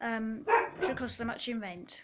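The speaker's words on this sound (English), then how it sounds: "That's my dog barking." A dog barks a few short times in the background of a house while a person talks over it, the barks partly buried beneath the speech.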